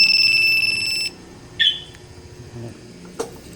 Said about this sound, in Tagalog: ito alarm na